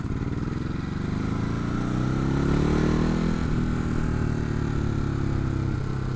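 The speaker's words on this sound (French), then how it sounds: "C'est un double silencieux en alu qui passe sous la selle." A Ducati Hypermotard 950 with a dual aluminium under-seat exhaust runs close by, its steady engine note swelling midway with a rising, throbbing revving before settling back into a strong, even drone.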